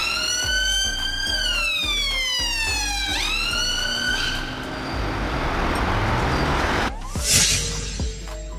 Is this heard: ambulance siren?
yes